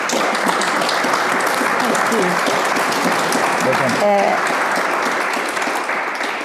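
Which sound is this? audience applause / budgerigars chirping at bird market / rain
audience applause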